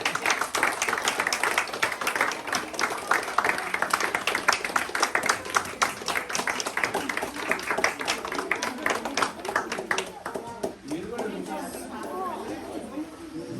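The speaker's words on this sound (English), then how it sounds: "big round of applause" Applause at a school annual day awards distribution, dense crowd clapping mixed with audience chatter that keeps up for several seconds before thinning out as the clapping fades near the end.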